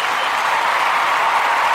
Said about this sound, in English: Give him a round of applause for joining the show